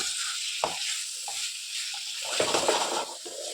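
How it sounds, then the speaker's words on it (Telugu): Bitter gourd slices sizzle softly in a pan with intermittent scraping and stirring clatters, a steady frying hiss underneath. "మనం మంచి కలర్ వచ్చేంత వరకు ఫ్రై చేసుకోవచ్చు"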